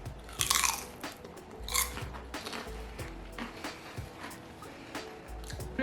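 Crisp crunching bites into gluten-free tempura bell pepper, with several sharp crackly bursts followed by close, steady chewing, no talk.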